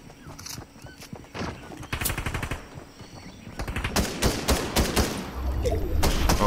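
Crossfire in the game Fortnite: repeated bursts of rapid automatic gunfire, loud and close, build into near-continuous shooting toward the end.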